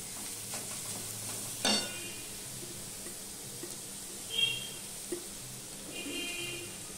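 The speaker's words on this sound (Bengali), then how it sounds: "এবার গাজরটাকেও আমি একটুখানি রান্না করে নেব" Grated carrot with turmeric sizzles softly in a pan as it is stirred, with a few scraping knocks of the spoon against the metal and a steady low frying hiss throughout.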